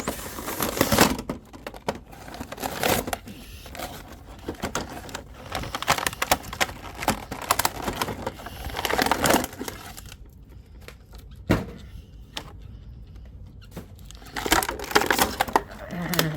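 Card-and-blister packaging for a 4-inch Jakks Pacific Sonic the Hedgehog toy is torn open up close in a string of crackling, crunching rips and tearing bursts with short pauses between them.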